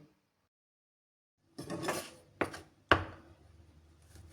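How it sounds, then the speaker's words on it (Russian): A few sharp knife strikes against a cutting board while slicing sausages, separated by soft scraping, after a moment of near silence; close and fairly quiet. "Нарезаю колбаски."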